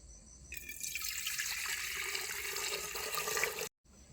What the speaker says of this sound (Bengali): এবারে হাড়ির ভিতরে দিয়ে দেবো জল